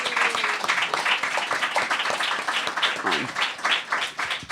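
An audience applauds a guest poet at a fellows discussion event, steady dense clapping filling the room for several seconds, fairly close and without talk over it.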